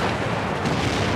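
A T-34 tank cannon shot in the wartime strategy game Steel Division 2 comes as one dense, loud boom with a rumbling, sustained roar that fills the whole short moment without any pause.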